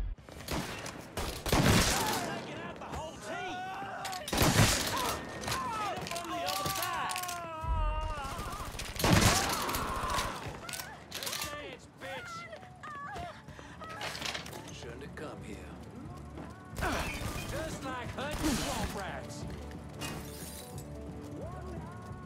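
Gunfire in the video game Mafia III: bursts of loud shots and glass shattering in clusters, mixed with music and game dialogue between the volleys.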